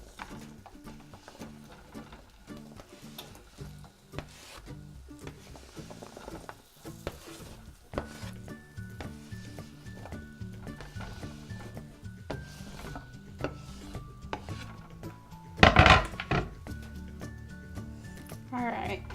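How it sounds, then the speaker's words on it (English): Potatoes tumble into a hot skillet with butter and oil, setting off a crackling sizzle and scraping clatter that builds, with a louder burst of spattering near the end; a voice talks throughout. "So I'm adding our potatoes into our skillet."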